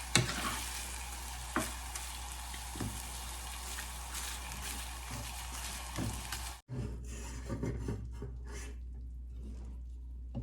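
Beef browning in a new non-stick cooking pot, with a steady close sizzle and frying hiss broken by occasional stirring scrapes, then a brief drop and a quieter, sparser sizzle toward the end.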